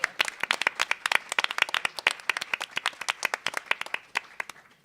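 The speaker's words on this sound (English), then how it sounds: "let's applaud the audience" A small audience at a League of Women Voters candidates forum claps in a close, sparse patter of distinct hand claps that thins out gradually over several seconds.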